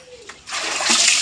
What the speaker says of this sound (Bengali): এই আলুগুলো একটু ধুয়ে ফেলো তো।